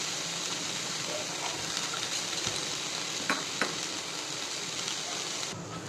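Chopped onion and garlic for pasta fry in a pan with a steady, close sizzle, tossed lightly, with a couple of faint clicks of utensil against the pan and no talking.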